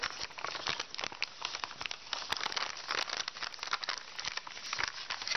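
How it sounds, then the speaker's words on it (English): Origami paper folded down along a crease for a bare winter tree, close, steady crinkling and rustling with sharp little crackles throughout, no talking. "So we're going to find the first crease up and fold it down."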